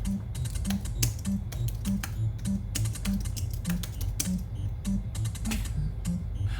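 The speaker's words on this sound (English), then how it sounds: "I'm typing in shortcut jumps in Doki" Rapid clicking of fingers typing on a computer keyboard, close and continuous with a busy uneven rhythm, over a soft looping background tune with no talk.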